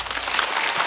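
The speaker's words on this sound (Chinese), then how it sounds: "来，再次掌声送给毛豆。" A studio audience at a Chinese stand-up comedy show claps in a dense, steady burst of applause that fills the whole moment at an even loudness, with no voices on top.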